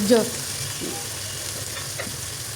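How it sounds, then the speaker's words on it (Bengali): Beef frying in a pan with garam masala powder, a continuous close sizzle with stirring scrapes and a brief louder stir at the start, no voice. "এখানে গরুর গুস্তটা একটু ভালো করে ভেজে নিতে হয়"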